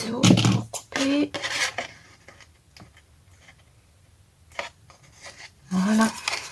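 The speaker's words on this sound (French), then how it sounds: "Mon ciseau pour couper." Scissors cut paper for a handmade card base, making a few sharp, close snips and scratchy clicks separated by pauses, with a voice speaking briefly.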